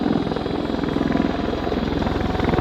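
An MV-22 Osprey tiltrotor hovers at an airshow with its gear down, its loud, steady rotor thrum pulsing rapidly and continuously, close and dominant with no voices over it.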